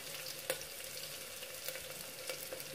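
Green chilies saute in a pan, giving a soft, low, continuous sizzle with a few light scraping ticks from stirring. Nobody talks.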